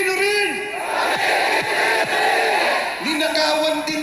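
A large crowd at a prayer rally shouts a chant in unison, with loud, sustained massed voices and rising shouts, and a leader's voice calling out over it.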